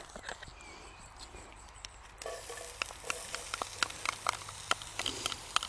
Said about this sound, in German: Wir werden jetzt den Zwiebel andünsten